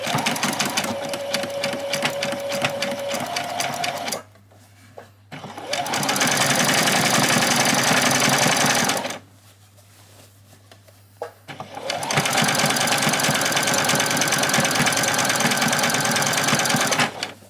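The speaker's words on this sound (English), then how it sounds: "I'm just going to come around and do it with my zigzag stitch." A sewing machine zigzag-stitches around the edges of a doll's dress in three long, loud, steady runs with brief quiet gaps between them.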